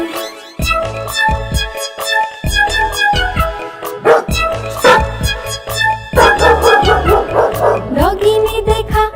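Cartoon-style dog barks in a Hindi nursery rhyme, a repeated rhythmic series of loud barks set over bright music throughout.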